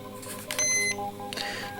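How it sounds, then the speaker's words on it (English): A Sihuadon R-108 radio gives a short run of electronic beeps when saving a station preset, with a higher tone sounding for roughly a third of a second amid a faint background hum. "press memory, scroll down to which preset, and then press memory again, and you'll hear a long beep"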